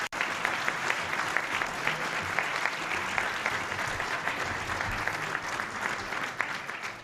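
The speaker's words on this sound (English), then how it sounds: "How about a round of applause for our speaker today?" Audience applause for the speaker at a National Press Club luncheon: dense, sustained clapping from a room full of people, steady and loud throughout with no talking over it.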